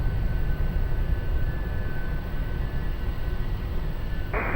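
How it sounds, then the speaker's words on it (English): Airbus A320 rolling for departure on runway 20, heard as a steady broad engine roar that holds loud and even throughout, with a tone rising near the end. "Airbus 320, rolling for departure runway 20"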